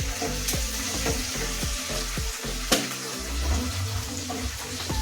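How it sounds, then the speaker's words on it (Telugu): Spices fry in a pan with lemon rice being made as turmeric goes in, a continuous close sizzle broken by stirring scrapes and one sharp tap, with no talk. "ఇవన్నీ బాగా వేగుతున్నప్పుడు ఇప్పుడు పసుపు వేసుకుందాం"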